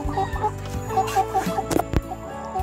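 Rhode Island Red chickens clucking nearby, a string of short repeated clucks and soft calls over a low background hum.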